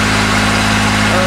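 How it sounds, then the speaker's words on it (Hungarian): A Suzuki engine idling while warming up during a propeller test, loud and close, with a steady throbbing low hum and even pulsing rhythm that never changes pitch. "Egyelőre melegítjük a motor."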